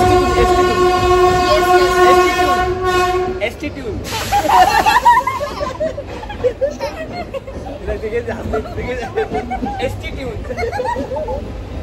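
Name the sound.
local train passing with horn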